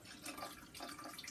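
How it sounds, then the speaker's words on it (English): Dechlorinated tap water is poured into a paludarium tank, making a soft, brief splashing and trickling that stays faint and close. "I'm just going to pour some in the tank"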